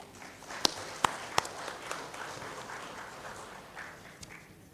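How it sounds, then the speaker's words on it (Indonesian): Scattered audience applause after a talk at an Indonesian investment press event, a few sharp claps standing out early, then thinning into a soft patter over room murmur. "Boleh kita beri tepuk tangan."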